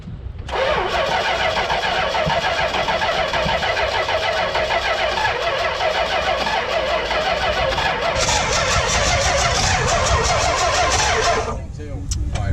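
A 1971 Dodge Demon barn find has its starter cranking the engine continuously for about eleven seconds, a loud, rapid, whirring churn close by that grows harsher partway through and then stops without the engine catching.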